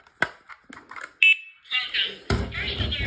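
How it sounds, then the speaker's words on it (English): A First Alert combination carbon monoxide and smoke alarm under test gives a brief, piercing electronic beep among short chirps and clicks, followed by rustling handling noise; a voice is heard. "First alert, carbon monoxide and smoke alarm."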